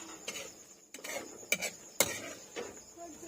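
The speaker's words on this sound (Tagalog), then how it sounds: "Halo-halo muna natin para papasok yung timpla sa loob ng ano." A utensil scrapes and clinks against a metal pan while shrimp are stirred with seasoning, in several irregular strokes with sharp metallic taps, close-up over a faint sizzle.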